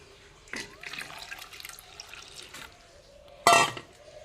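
Water poured into a pressure cooker holding rice: faint splashing and handling noise, then a short loud gush of water near the end.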